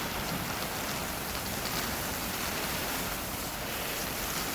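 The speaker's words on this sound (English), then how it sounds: "It's really kind of a stormy rain at the moment." Heavy stormy rain hisses steadily outside a garden polytunnel, a dense, even wash of drops with no voices.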